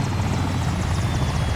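A Mi-8 helicopter in a video game, its rotor giving a steady rapid thudding beat over a deep engine drone, loud and constant throughout.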